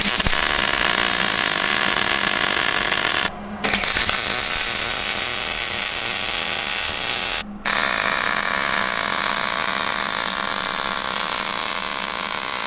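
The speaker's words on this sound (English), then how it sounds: "I'm going to weld the jack stand to the plate." Welding a jack stand to a steel plate for a modified Harbor Freight engine stand: a loud, continuous buzzing crackle of welding that pauses briefly twice, with no talk.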